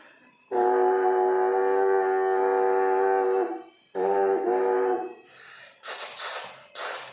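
A voice imitates a train horn: two long, loud, sustained horn-like blasts, the first about three seconds and the second shorter, followed by breathy, hissing noise bursts.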